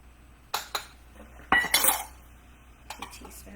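A spoon clinks and scrapes against a container while stirring homemade sweetened condensed milk and chocolate mint coffee creamer: a few quiet, sharp metallic taps and one longer rattling stir, with no talking.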